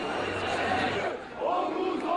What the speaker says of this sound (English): Protesters chanted anti-government slogans